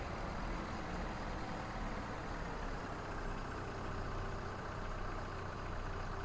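A truck engine in Farming Simulator 22 runs at a steady, droning idle, a continuous low rumble with broadband noise and no speech.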